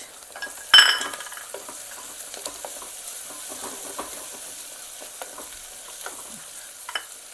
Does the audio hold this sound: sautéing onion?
yes